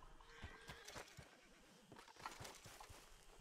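A horse whinnies amid a busy, noisy Red Dead Redemption 2 Online game soundscape, its call rising and falling over steady background clatter.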